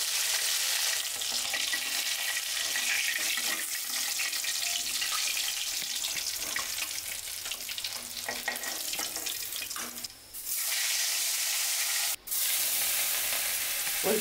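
Fish frying in a pan, with a steady broadband sizzle running throughout at close range, broken by brief dips and a sharp transient near the end, and no one speaking over it.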